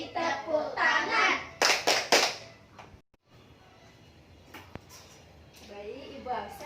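Children clap their hands along to a sung classroom song, a short burst of several sharp claps amid singing voices, followed by a quiet pause and then more speech.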